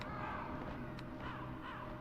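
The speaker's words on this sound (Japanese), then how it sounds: "ここにカラスがいるんですよね" A crow caws in the video game Metal Gear Solid Integral, several faint repeated calls against a quiet background.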